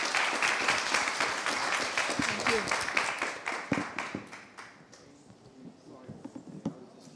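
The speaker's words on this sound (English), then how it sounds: "please give a round of applause for this panelist." A conference audience applauds a panelist with brisk clapping that fades after about five seconds, leaving a few scattered claps and faint voices.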